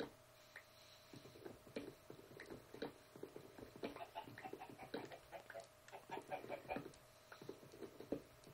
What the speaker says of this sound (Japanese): 鶏を広いところに行けてよかったな。